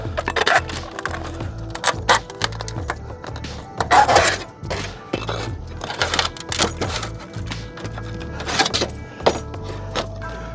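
Pieces of a temporary roof vent cover being broken off during roof vent replacement, giving close, irregular snaps, cracks and rattling knocks with scraping in between.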